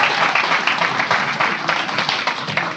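Thousands of people at a packed lecture event burst into applause and cheering, a dense, steady wash of clapping from a large crowd that holds loud and even throughout.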